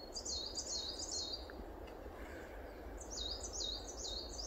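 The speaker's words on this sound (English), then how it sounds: "Oh, you can hear them birds" Birds sing in quick, high warbling trills, one burst at the start and another near the end, somewhat distant over a soft steady background.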